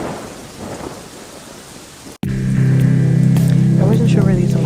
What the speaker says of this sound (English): The rain was slowly dripping down and softly kissing his skin